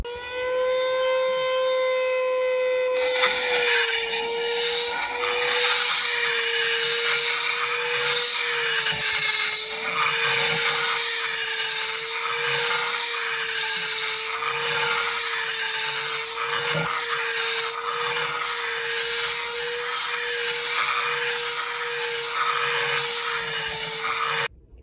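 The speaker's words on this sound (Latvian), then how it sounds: "Ar parasās vīles palīdzību, ka beidzot esmu dabūjis pietiekam lielu caurumu, lai skrūvi iet cauri." A metal hand file rasps back and forth, enlarging a bolt hole in the chassis of a damaged Hyundai car, with steady grinding strokes continuing loudly and almost without pause throughout.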